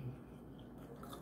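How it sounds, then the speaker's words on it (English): Close-up chewing and biting of crunchy fried chicken, with soft crunches and moist mouth sounds over about a second, no talking. "Crunchy chicken."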